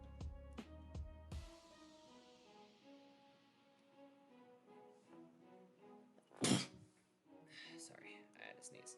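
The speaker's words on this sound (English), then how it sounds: "I had to sneeze" A single short, sharp human sneeze bursts out partway through, loud against a quiet room where soft piano-like music plays and a person is drawing.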